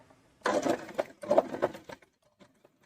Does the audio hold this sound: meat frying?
no